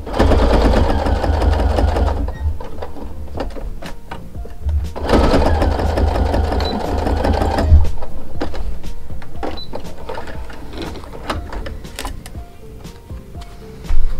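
A sewing machine stitches a fabric seam on a handmade baby bootie in two loud, steady whirring runs, separated by quieter stretches of handling and small clicks.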